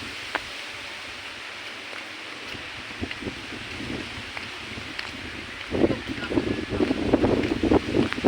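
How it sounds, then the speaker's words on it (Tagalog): Gusty typhoon wind roars steadily, with microphone buffeting that grows louder and more forceful in the final few seconds. "malakas pa ang hangin mga kapok at gawa ng bagyo"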